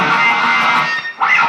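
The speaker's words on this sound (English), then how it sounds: "you have to do a scratch on the strings" Muted guitar string scratch on a guitar part, fingers resting lightly on the open strings: a dense, buzzy percussive rasp held steady, with a short gap and a second burst near the end.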